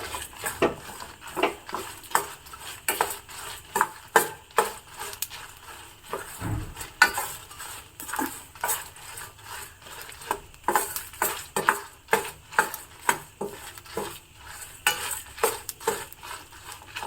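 Lentils and chillies dry roasting in a pan with no oil, with steady scraping and stirring strokes of a spatula against the metal over a faint background hiss, close up.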